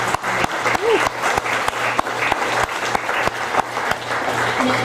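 Audience at a county Republican Party primary forum gives a steady round of applause, a dense clatter of clapping with a low hum running underneath throughout.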